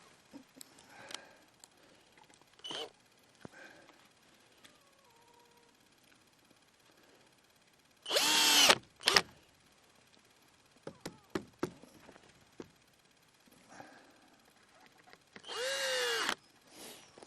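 A power drill drives screws into the end panels of a garden bed, with two loud sustained bursts a few seconds apart and several shorter whirs and clicks between them, close by and without talk.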